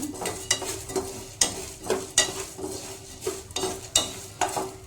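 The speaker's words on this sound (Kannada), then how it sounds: "ಇದೇ ಥರನೇ ನೀವು ಎಲ್ಲದನ್ನು ಚೆನ್ನಾಗಿ ಹುರ್ಕೊಳ್ರಿ" Spices including fenugreek seeds dry-roast in a pan for bisi bele bath powder, stirred by hand with regular scraping strokes about once a second over a faint rustle, close and without talk.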